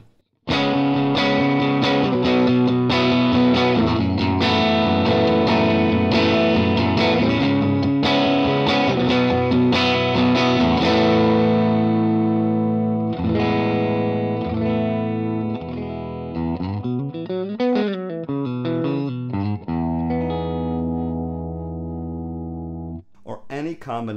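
Electric guitar, a Telecaster Thinline fitted with Seymour Duncan P-Rails switched to P90 single-coil mode, playing loud overdriven chords and riffs with effects, then a wavering, pitch-bending passage before a brief final strum.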